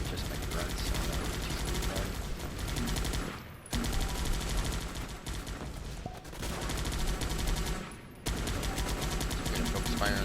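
Gunfire in the Guns Up! video game during an alliance battle: sustained rapid bursts and overlapping shots with brief pauses between volleys, loud and dense, with game sounds layered throughout.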